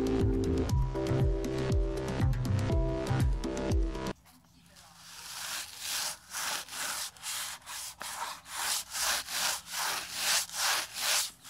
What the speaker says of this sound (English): Now I'm sanding off all of my excess dried glue and sawdust to smooth out all of my pieces